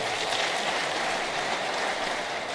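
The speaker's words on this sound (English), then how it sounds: "Let's give Melinda another round of applause." Steady wash of audience applause at a borough presidents' civic gathering in the Bronx, dense and even across the whole stretch with no voices standing out.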